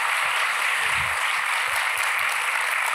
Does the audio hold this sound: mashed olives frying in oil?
no